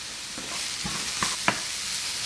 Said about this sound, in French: je surveille mes oignons, je les fais bien colorer